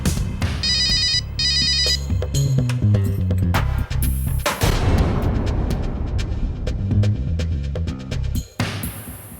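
Telephone ringtone trilling in two short electronic bursts early on, set under a dramatic TV serial's loud music score and booming sound effects.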